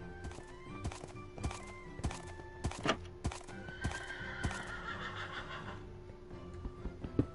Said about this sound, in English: There's a horse out there.